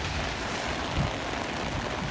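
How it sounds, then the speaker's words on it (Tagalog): Rain falling outside at a bus stop as a steady, broadband hiss, continuous and fairly close, with a faint low thump midway. "Yan, naulan siya ngayon guys."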